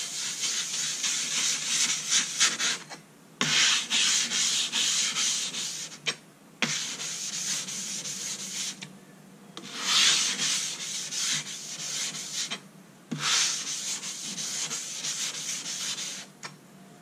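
A silicon carbide sharpening stone is lapped on loose abrasive, giving a gritty, close-up rubbing hiss in several long back-and-forth strokes, separated by brief pauses as the stone is lifted.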